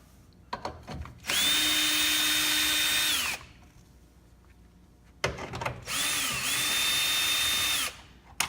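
A power tool whirs in two loud, sustained bursts of a few seconds each while loosening bolts on a BMW E92 M3 coil cover, with quiet clicks and handling sounds between them.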